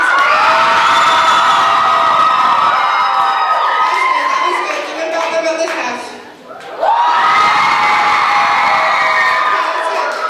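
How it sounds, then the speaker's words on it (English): A crowd of audience members cheers and whoops loudly at a dating game show event, swelling, dipping briefly, then surging again, with a host speaking over the noise. "side over here is not cheering enough, so I need just this half over here."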